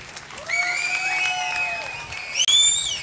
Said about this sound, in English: Yes, a few more whistles.